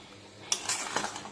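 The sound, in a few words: stirring and sautéing chicken curry in a pan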